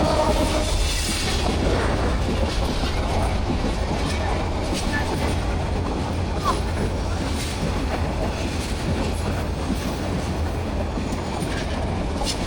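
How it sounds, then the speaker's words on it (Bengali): A train crossing the Banashuya railway bridge in Cumilla, a loud continuous rumble with rolling wheel clatter filling the whole stretch, close by and steady throughout, with a crowd present. "দেখেন একটা ট্রেন আসতেছে বর্তমানে।"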